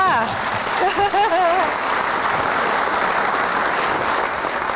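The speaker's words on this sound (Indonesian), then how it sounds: "Kalau mau tepuk tangan jangan malu-malu, nggak apa-apa." Audience applause at a live televised special program about Jakarta, a steady rain-like patter of many hands that builds and sustains, with a voice speaking over the opening moments.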